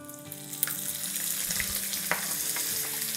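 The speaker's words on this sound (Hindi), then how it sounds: "इसको तकरीबन हम 40 सेकंड के आसपास सॉटे करेंगे और अब इसमें जाएगा 1 टेबलस्पून भर के लहसुन का पेस्ट और 1 टेबलस्पून भर के अदरक का पेस्ट" Garlic and ginger paste sautés in a pan for a fish masala curry, a close, steady frying sizzle with small spits and a couple of stirring knocks, no talking.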